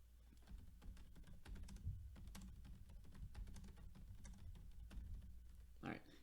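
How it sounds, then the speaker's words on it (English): Someone types on a computer keyboard, a dense run of quick soft clicks and taps close to the microphone, steady for several seconds with no talking. "So integer, I'll type a quick description for it."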